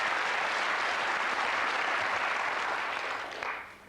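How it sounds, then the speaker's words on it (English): Studio audience at a 1990 UK TV game show gives a steady, dense round of applause that holds for several seconds, then thins and fades toward the end. "round of applause for it"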